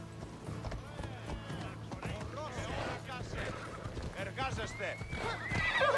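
Horse whinnies and neighs in Assassin's Creed Odyssey, repeated over about six seconds with clip-clopping hooves, under ongoing speech and game sounds.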